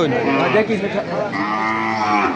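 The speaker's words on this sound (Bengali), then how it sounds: "এখানে কিন্তু একটা বকনা গরু বিক্রি হয়েছে" A heifer cow at a cattle market lets out a long, loud nearby moo that rises and falls over a couple of seconds, with people talking in the background.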